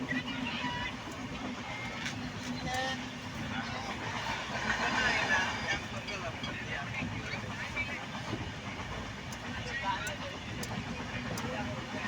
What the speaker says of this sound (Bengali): 12842 down MGR Chennai central Shalimar Coromandel express.